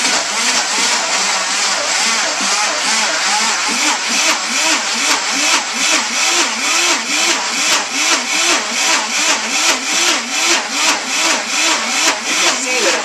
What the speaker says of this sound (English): Start the Vitamix off just by turning it on and off. Turn it up on high